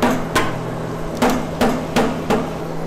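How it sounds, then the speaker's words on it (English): Rubber mallet striking a C3 Corvette LT1 engine part during water pump and Optispark removal, six dull blows at uneven intervals, close and fairly loud with nothing else over them. "This is a rubber mallet."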